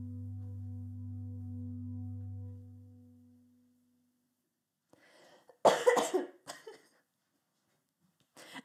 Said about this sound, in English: Every song is gonna end with a cough.